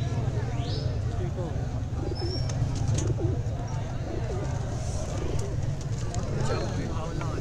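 Pigeons coo softly at a busy Sunday pigeon market in Sialkot, under constant crowd chatter and nearby voices, with a few faint chirps above the hum.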